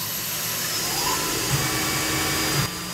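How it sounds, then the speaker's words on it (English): A CNC mill cutting a DIY 9mm AR-15 muzzle brake with a quarter-inch four-flute carbide end mill at 2700 RPM, a steady loud whining hiss that runs continuously and drops off slightly near the end. "This is a quarter inch four flute carbide end mill, 2700 revolutions per minute, 7 inches a minute."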